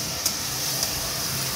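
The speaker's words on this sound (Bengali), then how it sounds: "দিয়ে এবার আবার কষাবো" Jackfruit and prawn masala sizzles steadily in a pan after ground spice paste and a splash of water go in, a constant frying hiss broken by a couple of brief sharp spits.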